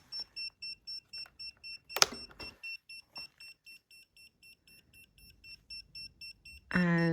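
An electrical tester beeps in a rapid, even series of short tones after a switch is turned on at a box in a stone house under renovation, with a few clicks and handling noises and a louder burst near the end.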